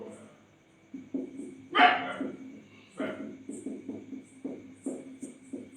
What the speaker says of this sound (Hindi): ये रात में ना कुत्ते बहुत परेशान करते हैं।